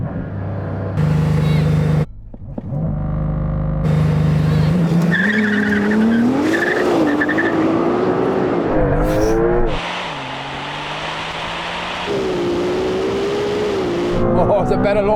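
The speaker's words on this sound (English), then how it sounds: "Oh, it's a better launch from the Porsche." A Porsche 911 Turbo S and a Ferrari 296 launch in a drag race, engines roaring loudly with rising revs, gear changes and tire squeal, while voices talk over the noise.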